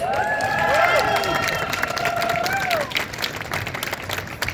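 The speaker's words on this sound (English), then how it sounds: "Let's give him a round of applause" A crowd at an outdoor public art unveiling in New York bursts into loud applause mixed with rising whoops and cheers, the clapping carrying on steadily after the voices fade.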